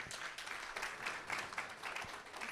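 Continuous applause from an audience at a Shiv Jayanti celebration, a soft, even wash of many hands clapping at a distance.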